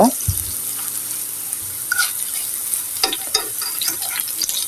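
Yardlong-bean pakoras sizzle steadily in hot oil while a utensil stirs and flips them, with scattered scraping clinks over the continuous frying hiss.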